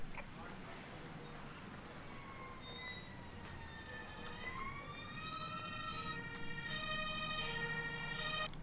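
An electronic ambulance siren in the video game Emergency 2025 rises and falls in repeated wailing sweeps, growing louder over a steady low rumble of background noise.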